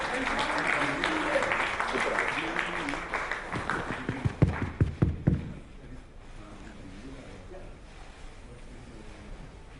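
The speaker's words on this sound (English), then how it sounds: "Please clap for them." Audience applause at an education summit as people come up on stage, a dense clapping crowd that thins into a few loud individual claps before fading out, leaving quiet room tone.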